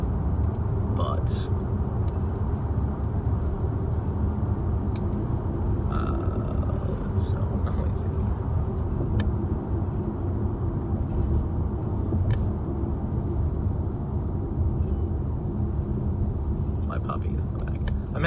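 Interior cabin sound of a 2019 Jeep Compass Limited driving, a steady low engine and road rumble throughout, with occasional small clicks and thumps, while someone talks over it.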